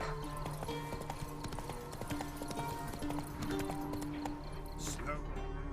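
Roach, the horse in The Witcher 3: Wild Hunt, trots along with a steady clip-clop of hooves beneath game music and ambience.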